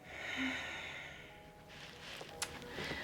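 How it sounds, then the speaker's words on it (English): One person takes a deep breath in and lets it out slowly during a yoga session before crow pose, a soft, close, airy inhale and exhale with no talk. "big breath in, big breath out"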